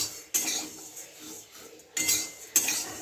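A utensil scrapes and clinks against a pan while poha fries on medium heat, with three sharp metallic stirring strokes standing out over a quiet, soft background sizzle.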